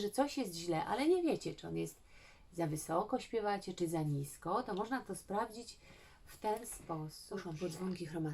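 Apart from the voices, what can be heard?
No everyday noises stand out.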